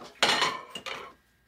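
Dishes and cutlery being cleared after a meal, with two quick bursts of clattering bowls and clinking spoons close by, then fading away.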